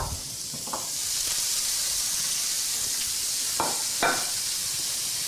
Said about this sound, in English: we're going to add our 3 ounces of rice noodles